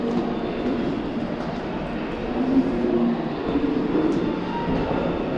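A Busan subway train, near a Seomyeon line transfer, gives a continuous low rumble and whine of wheels and motors at moderate level, steady and unbroken for the whole stretch without any voices.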